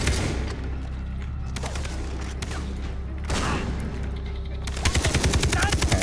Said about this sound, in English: I heard the shotgun from behind me, that means a commander.